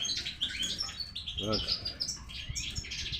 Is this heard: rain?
no